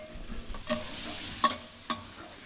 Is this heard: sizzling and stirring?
yes